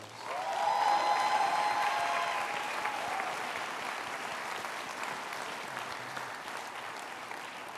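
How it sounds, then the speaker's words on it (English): Applause for staff at an autumn graduation ceremony, a broad sustained wash of many hands clapping that swells early, then slowly thins and softens, with no speech over it. "Let's offer our staff one big round of applause."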